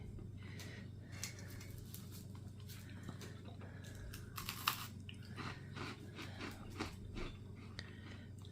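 A man chewing lasagna roll ups and garlic bread, soft wet crunches and bites repeating irregularly close up over a low background hum, no talking.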